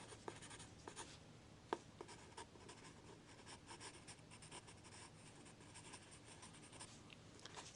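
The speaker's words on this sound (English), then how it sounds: "I'm just going to use the pencil to darken it a little bit." Pencil shading on paper: continuous soft, close scratchy strokes with irregular rhythmic brushing and a few sharper taps, quiet and alone.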